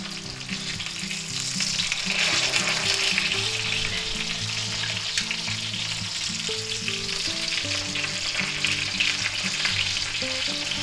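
Chicken fried steaks sizzle and crackle steadily in a hot frying pan, a dense, even hiss that stays loud and close throughout with no talking.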